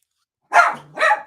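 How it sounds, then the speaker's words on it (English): Dogs give two sharp barks in quick succession, close and loud, with a short growly gap between them and no talking. "You dogs, be quiet."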